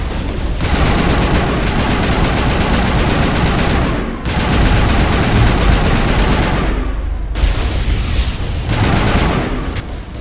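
Sustained gunfire in a Mass Effect Legendary Edition battle against an Asari commando unit in a lab, with dense rapid automatic bursts and booming shots, loud and continuous, with two brief pauses.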